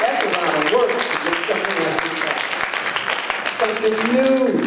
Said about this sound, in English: Let's give a bigger round of applause for that.